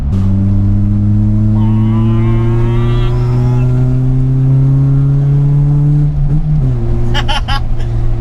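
Non-turbo Toyota Starlet engine heard from inside the cabin, a steady loud drone rising gradually in pitch under load, then a quick throttle blip near the end.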